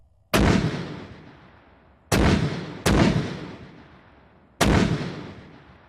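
Four heavy booms from a video game artillery fire mission, each a sharp blast with a long rumbling decay, irregularly spaced over a few seconds, loud and with no voices.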